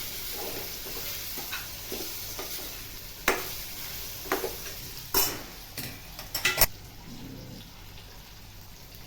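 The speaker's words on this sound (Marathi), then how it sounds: "हे चांगलं तेलात परतवून घ्यायचं।" Chopped ridge gourd sautéing in oil in a pan, with a soft continuous sizzle punctuated by scattered scrapes and clinks of a spoon stirring against the pan.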